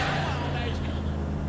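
A car driving in the video game Saints Row the Third produces a steady engine drone with a low rumble, heard under a player's talking.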